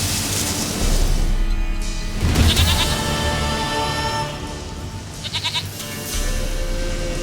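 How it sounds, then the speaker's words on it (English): A goat in The Witcher 3: Wild Hunt bleats in short, wavering calls a couple of times over a dense bed of game music and ambience, with no talk. "Goat of mine, dearest, sweetest goat."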